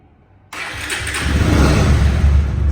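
After a brief silence, a 2019 Pulsar motorcycle engine self-starts, cranking and catching, then settles into a steady, loud idle close by.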